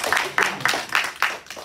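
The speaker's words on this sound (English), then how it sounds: "Let's give them all a round of applause" A high school psychology class claps, a few distinct bursts of applause in quick succession, moderately close and fairly light, like a small group rather than a big audience.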